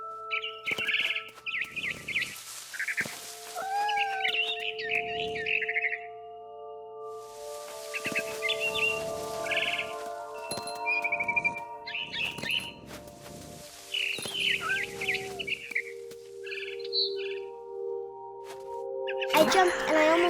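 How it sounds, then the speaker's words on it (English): A barn swallow chirps in the What Remains of Edith Finch video game, short scattered tweets and calls among soft game tones and a narrating voice. "Then I heard chirping outside my window. It was a barn swallow going back to her nest."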